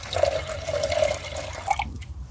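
Water poured out at a wild camp while brewing a hot drink in a hammock setup: a steady, close liquid trickle and splash running for about two seconds, then stopping.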